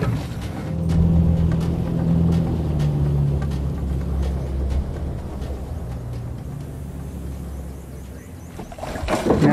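A boat moves into position along a riverbank in crocodile country, its engine a steady low drone that swells and fades over several seconds, with water wash and wind noise.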